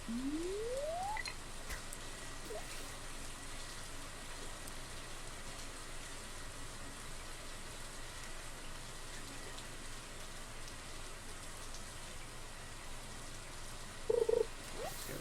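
In the Stardew Valley video game, rain falls steadily as a soft, continuous hiss throughout, with a short rising tone at the start and a brief blip near the end.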